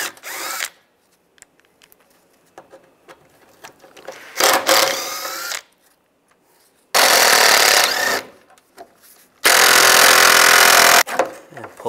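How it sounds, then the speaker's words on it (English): Power driver spinning out screws with a T30 socket on a 1999-2005 Volkswagen Jetta during radiator removal, several loud whirring bursts of a second or two separated by quiet handling noises. "Then these four screws, we're gonna use a T30 for those screws."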